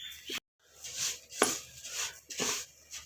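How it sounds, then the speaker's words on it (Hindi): A spoon scraping and knocking in an empty pan while flaxseed dry-roasts over a low flame: repeated rhythmic scrapes about every half second with a brief clink, close and alone. "खाली बर्तन में इसको चम्मच चलाते रहना है और इसको आपने भूनना है"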